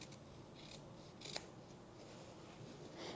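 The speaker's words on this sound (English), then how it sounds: "Now trim these corners." Scissors snip through waistcoat seam corners during tailoring, one sharp cut standing out briefly over a quiet, steady room hiss.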